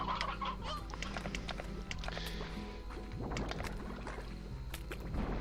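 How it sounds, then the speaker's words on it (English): Chicken hens clucking in the video game Slime Rancher, sounding as scattered short clucks and squawks over a steady low game hum, fairly faint and without talking. "Okay, I'll show you some chickens now. Yeah, chicken hens."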